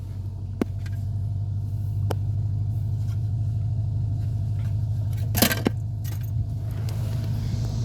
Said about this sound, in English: do an exhaust clip